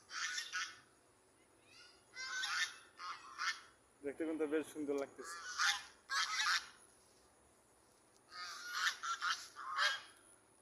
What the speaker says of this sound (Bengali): এই দেন হাঁস দুটো কত সুন্দর লাগতেছে